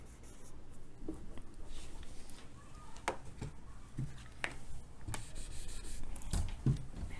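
Pen or pencil writing by hand on paper, with soft scratchy strokes and occasional sharper taps in an uneven rhythm, close and fairly quiet over low background noise.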